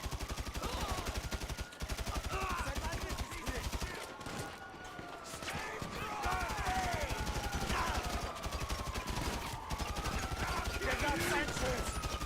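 Rapid gunfire from the video game GTA 5 rattles in dense, repeated bursts over steady game sound. The shots come fast and loud through most of the stretch, with a few short breaks.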